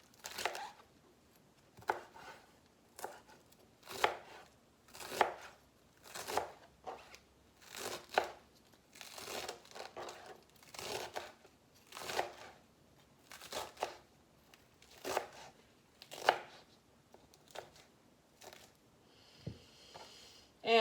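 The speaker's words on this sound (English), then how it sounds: "It's the one time I'm going to chop this thing up." Swiss chard greens chopped with a kitchen knife on a board, a series of crisp, crunchy cuts in uneven bursts of a few strokes each, separated by short pauses, close and fairly quiet.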